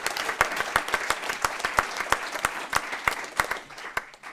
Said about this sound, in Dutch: Mogen we nog één keer een heel warm applaus?